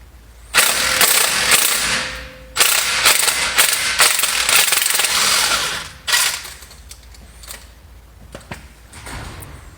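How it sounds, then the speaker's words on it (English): Socket wrench working the hub assembly off a 2017 Ram 4500 stub axle, with a long burst of ratcheting and clattering metal followed by a second long stretch, then a few lighter clanks and handling noises close by. "remove the hub assembly with an E18 socket"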